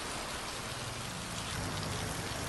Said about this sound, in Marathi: अनेक भागात सोसाट्याच्या वाऱ्यासह पाऊस बरसलाय